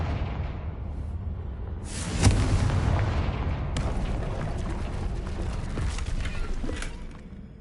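Confringo blasting-curse explosions in the Hogwarts Legacy game: a loud boom hits near the start, then a sustained rumbling roar with crackling debris that slowly fades, no talking.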